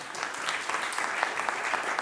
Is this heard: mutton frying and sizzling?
no